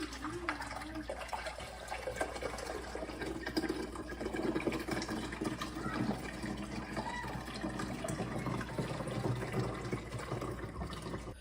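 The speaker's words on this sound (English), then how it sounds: "And again, I'm gonna be filling it with the pitcher." Water poured from a pitcher into a small countertop portable dishwasher, a steady splashing fill that runs continuously for the whole stretch, fairly close and moderately loud with no talking over it.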